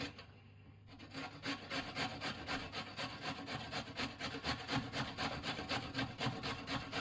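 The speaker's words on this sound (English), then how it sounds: "I don't like big chunks of carrot and stuff, so out with the box grater" Carrot grated on a box grater in a home kitchen: after a brief pause, fast, regular rasping strokes repeat steadily, close and moderately loud, with no talking.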